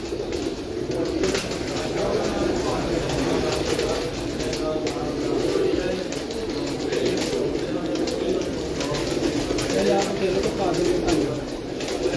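Pigeons coo at a pigeon-keeping gathering, a soft, continuous burble running throughout under steady background noise and people talking.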